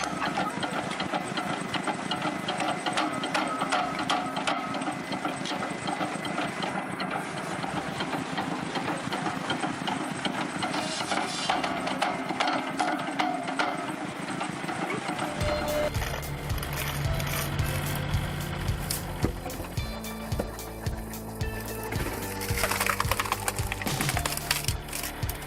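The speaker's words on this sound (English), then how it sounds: "It simply cuts through logs with reliable rhythm." A firewood processor runs steadily as its engine drones on, with woody cracking and splintering as logs are cut and split, and the machine noise continuous and loud throughout.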